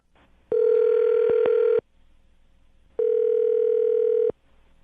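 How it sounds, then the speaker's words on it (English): Two long steady telephone tones, each over a second, separated by a short pause, sounding like a ringback while a call to a man's number connects; no voices. "I'm going to dial his phone number"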